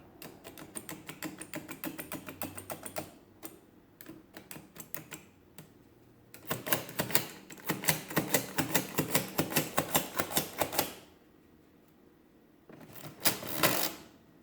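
A Comptometer Model E mechanical calculator being worked by hand under repair, its keys and levers clattering in dense rapid bursts of sharp clicks and ratchets, with pauses between runs, close and fairly loud, no talking.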